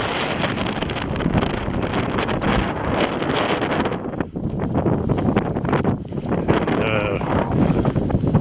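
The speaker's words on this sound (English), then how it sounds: "And also not brilliant when it's windy like this." Heavy wind buffeting a microphone, a constant loud rumbling roar with a brief dip midway, no voices.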